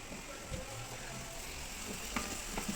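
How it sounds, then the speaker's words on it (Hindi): Chicken frying in a pan for a chickpea curry with blended tomatoes, a steady close sizzle with faint stirring scrapes and soft clinks. "ये जी अभी चिकन बन रहा है"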